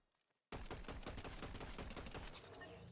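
Sustained rapid gunfire during Fortnite aim training, bursting in abruptly after a quiet half-second and continuing as a dense, loud stream of shots to the end.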